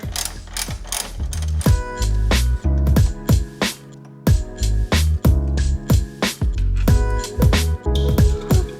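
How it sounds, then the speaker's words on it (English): A hand ratchet spins two 12mm nuts loosely onto a Perrin pitch stop brace on a Subaru WRX/STI, sounding as close, loud bursts of rapid clicking that stop and start repeatedly. "now that we got the 2 12mm nuts loosely fastened"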